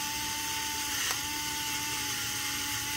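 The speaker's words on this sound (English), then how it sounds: "I'm gonna take the pepper just a little more to grind." A pepper grinder cranks out peppercorns over rotisserie beef short ribs, giving a continuous faint ratcheting grind with a small click partway through.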